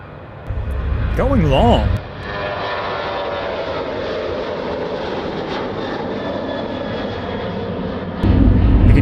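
A huge C-17 military transport jet takes off from Charlotte Douglas Airport, its engines producing a loud, sustained, broad roar that swells near the end, while spectators talk briefly over it.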